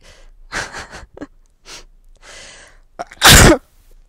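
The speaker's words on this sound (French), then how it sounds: "je vais éternuer" A few breathy inhales and sniffs build up, then one loud, explosive sneeze bursts out, followed by a soft exhale.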